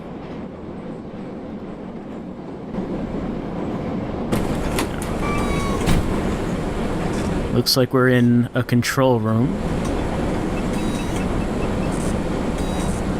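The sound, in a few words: train running in a video game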